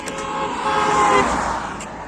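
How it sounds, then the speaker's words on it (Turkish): A sustained car horn honk, fairly loud and nearby, blaring for about two seconds over traffic noise. "Salak bana korna çaldı ya."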